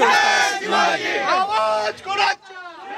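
A crowd of political supporters outside the state legislature cheers and shouts at an open-air tribal dance with traditional instruments. Many voices whoop and yell together, loud and close, before briefly dropping off.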